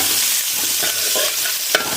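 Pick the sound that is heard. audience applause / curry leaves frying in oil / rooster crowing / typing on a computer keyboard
curry leaves frying in oil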